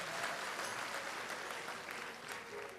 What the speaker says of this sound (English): All of you guys deserve a round of applause.